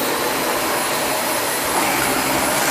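A Dyson vacuum cleaner runs continuously on thick, soft new carpet, a loud, close, unbroken whooshing roar with no talking.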